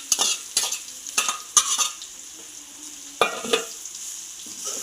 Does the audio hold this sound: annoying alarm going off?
no